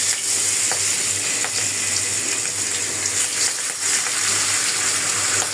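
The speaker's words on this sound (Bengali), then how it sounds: "এদিক দিয়ে মাছ ভাজা বসাই দিই।" Pangas fish frying in a pan in a home kitchen, a constant loud sizzle with scattered crackles and spits, near and continuous, with a faint low hum beneath and no talk.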